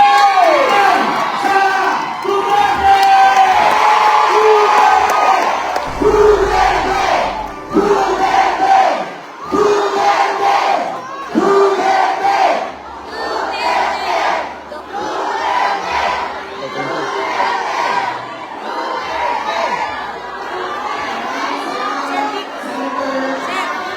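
A large crowd of Filipino overseas workers in Japan shouts and cheers at a rally, loud sustained roaring with surging chant-like waves of voices, dense and close.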